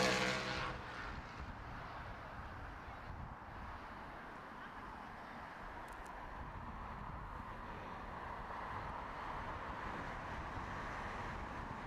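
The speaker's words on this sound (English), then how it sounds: "That is the China Southern A350 making its way in towards runway 27 left." A China Southern Airbus A350 on approach to Heathrow runway 27 left makes a faint, distant jet roar that holds steady under wind noise at an outdoor spotting spot.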